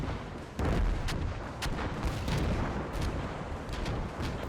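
A Katyusha rocket artillery barrage in the Gates of Hell war game, a rolling storm of heavy booms and sharp blasts landing close and loud in quick irregular succession over continuous rumbling.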